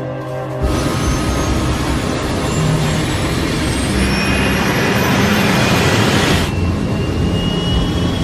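Concorde jet engines on Air France Flight 4590 roar during the takeoff roll, a loud broad thunder that surges in suddenly and holds steady.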